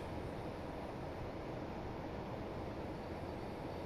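A freight train hauling LPG tank wagons on the Huddersfield Line in a train simulator game gives a steady broadband rumble and roar, continuous and even, with no talking.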